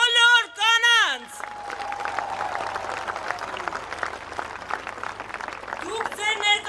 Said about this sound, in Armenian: ուզում եմ բարձր ծափարեք մեր բոլոր կանանց